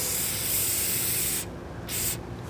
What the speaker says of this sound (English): Just spraying some of this flex seal on the